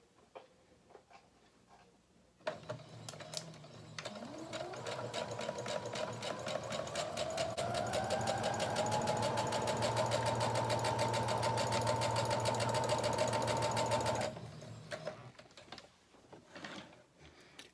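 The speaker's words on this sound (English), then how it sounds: "you go in and you sew 5/8 of an inch" Sewing machine stitching a 5/8-inch seam on a garment armhole, a rapid, steady mechanical chatter that starts abruptly, winds up to full speed, runs for about twelve seconds and stops, loud and close.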